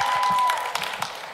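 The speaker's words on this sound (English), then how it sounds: "you can give a bigger applause for that" Brief burst of audience applause at a live panel event, a crowd clapping in a dense, moderately loud patter that fades slightly toward the end.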